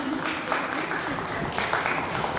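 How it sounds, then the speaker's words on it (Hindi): At a women's club Mother's Day event, an audience gives brief, lively applause for Nitin, a dense wash of clapping with voices mixed in. "नितिन भैया के लिए जोरदार तालियां।"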